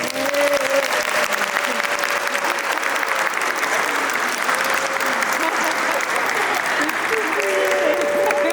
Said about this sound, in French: On applaudit pour Liam.